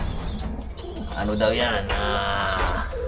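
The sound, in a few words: pigeon cooing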